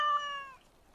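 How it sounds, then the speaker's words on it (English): A single short, clear cat meow from the video game Dragon Age: Origins, close and alone, fading quickly into silence. "look at the cute little kitty."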